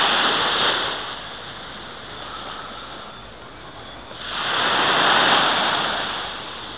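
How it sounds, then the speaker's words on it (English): Ocean waves wash against the sand at Great Bay Beach on Dutch St. Maarten, a loud surge that fades and then swells again as the next wave arrives, with no talking. "Only the song of the waves, the song of the water against"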